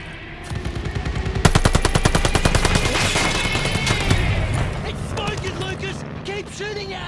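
Anti-aircraft gunfire in Call of Duty Vanguard, a rapid machine-gun stream of evenly spaced shots, loud and close, easing off toward the end, with shouted voices mixed in.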